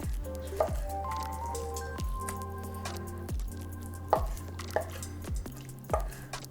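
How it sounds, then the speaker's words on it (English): Knife slicing cooked lobster meat into chunks on a board, a series of soft, wet chops and squishy cuts spaced about a second apart, close and fairly quiet, with light background music. "I'm just slicing in kind of like fairly beautiful chunks."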